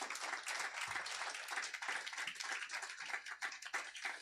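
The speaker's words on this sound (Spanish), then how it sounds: "¿Cuántos le pueden dar un aplauso a Cristo Jesús?" Church congregation applauding together, a dense continuous patter of many hands clapping at moderate distance for several seconds.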